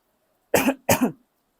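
Two quick, dry coughs in close succession, near and fairly loud, followed by silence.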